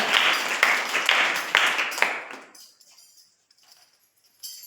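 Congregation clapping hands together during a Sunday church service, a dense burst of claps with a few louder strikes that fades out after about two and a half seconds, leaving near silence.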